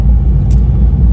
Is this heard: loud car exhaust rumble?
yes